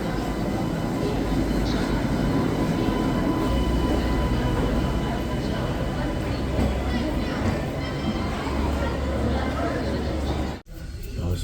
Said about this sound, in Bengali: আমরা এখন চলে এসেছি আগ্রা ক্যান্ট স্টেশনে